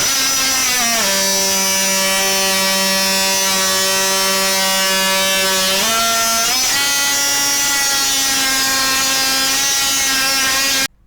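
A RIDGID Octane JobMax oscillating multi-tool runs loudly and continuously, its buzzing drone dipping in pitch as it loads up in a cut and then rising again, with no talk.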